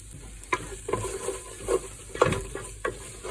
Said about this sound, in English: by adding a bit at a time and mixing it into this tomato paste that we're cooking the rawness out of